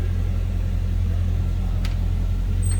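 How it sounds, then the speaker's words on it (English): A Chevy V8 in a 1954 Chevrolet 3100 pickup street rod idles with a steady low rumble, deep and even, with a faint brief click partway through and no talking. "overdrive transmission, Chevy V8. Listen how nice that sounds."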